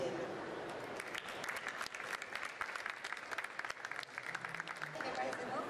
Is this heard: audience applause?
yes